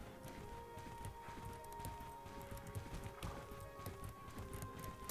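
Hooves clip-clop steadily from a horse moving in the video game Bella Sara, an even galloping rhythm with an occasional whinny under game music, fairly faint overall.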